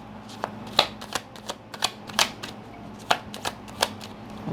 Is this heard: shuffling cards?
yes